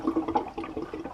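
Cold tap water runs into a bathroom sink for a quick rinse after shaving, a steady close splashing wash with soft ripples and no talking.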